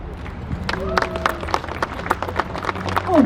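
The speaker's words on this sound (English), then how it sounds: "Oh, he got claps." An audience at a bank grand opening event in Johns Creek applauds the mayor with lively, dense clapping that runs loud and steady throughout.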